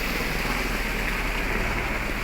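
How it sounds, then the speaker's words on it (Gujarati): A mountain stream beside the Kedarnath trail rushes in a steady, loud, broadband wash with no breaks, close by and without voices. "આવી રીતે મસ્ત ઝરણા આવે છે અહીંયા શોર્ટકટમાં."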